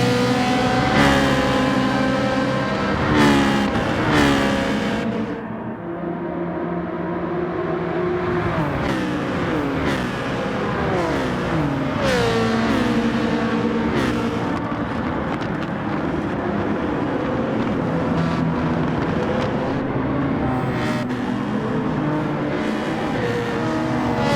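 Race cars in a Gran Turismo 7 daily race at Yas Marina run close together while slipstreaming, their engines droning loudly and continuously with shifting pitch and layered revving, alone without talk.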